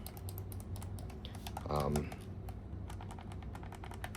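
Buttons on a GameSir G7 Pro controller are pressed in quick, crisp clicks, a rapid irregular series of light taps that runs steadily throughout, with a brief murmur of a voice partway through.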